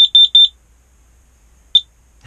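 A carbon monoxide detector inside an insulated ice fishing tent gives four quick, shrill beeps in a row, then one more beep after a pause. The sound is close and loud against near silence.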